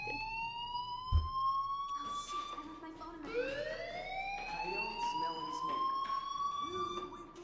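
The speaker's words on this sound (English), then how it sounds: "Hey, do you hear that fire alarm?" A fire alarm wailing in the Life Is Strange game, rising and sweeping electronic tones that repeat steadily under a background of people talking.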